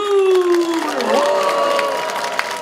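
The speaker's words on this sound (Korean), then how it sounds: "다시 한번 함성 박수!" Audience at a book concert attended by a provincial governor cheering and clapping, a loud burst of shouts and applause over a sustained held tone, with voices mixed in.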